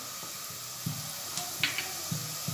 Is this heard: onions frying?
yes